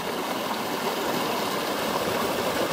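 Waterfall pouring over a fault barrier that spans a river, a steady, loud broadband rush of falling water close by, continuous and without any voices.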